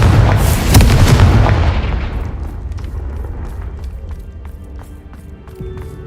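A video-game Confringo spell blast hits with a loud, deep booming explosion at the start, then rumbles and fades over several seconds into a quieter rustling tail with faint ticks.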